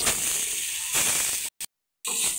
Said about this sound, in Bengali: এবার কেটে রাখা আলুগুলো ভেজে নেব।